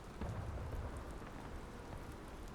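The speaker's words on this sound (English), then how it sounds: "A little bit of sun, but also raining." Steady, faint rain patter with a low rumble beneath it fills the scene in the Civil War video game War of Rights, with no talk.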